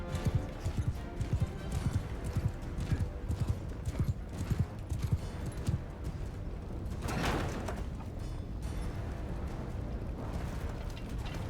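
Horses gallop in a Mount & Blade II Bannerlord battle, with rapid rhythmic hoofbeats that swell and fade. Midway a heavy boom-like rush of battle noise rises and then settles into a dense, continuous din.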